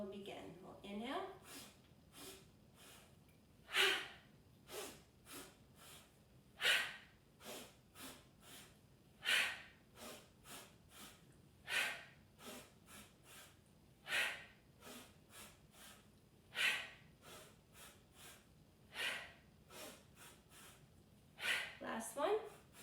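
Deep, forceful inhales and exhales during a Breath of Joy yoga exercise, repeating in a steady rhythm of breathy bursts, close and fairly quiet with no talking.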